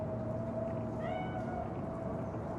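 A cat meows once, a drawn-out tonal cry, in the video game Cyberpunk 2077, sitting faintly beneath a steady, dense background hum.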